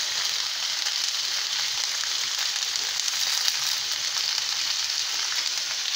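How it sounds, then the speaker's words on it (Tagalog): Silver Swan soy sauce goes into a hot pan of adobong sitaw with tofu, setting off a steady, bright, even sizzle that holds without a break throughout. "Lagyan na rin natin ng itong toyo or, or silver swan soy sauce."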